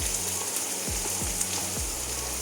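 Chopped onions frying in hot oil after cardamom and cinnamon, a steady close sizzle with a few soft stirring bumps and no voices.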